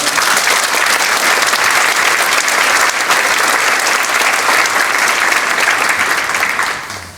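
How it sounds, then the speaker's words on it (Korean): Loud, continuous applause from a large congregation at a church inauguration ceremony, dense clapping holding steady for several seconds before fading off. "큰 박수로 모시겠습니다"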